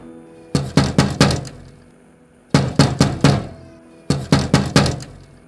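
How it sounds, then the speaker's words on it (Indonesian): Three bursts of four or five knocks on a window, evenly spaced and loud, separated by short silences, as a horror story sound effect. "kamar itu jendelanya ini ada yang mengetuk"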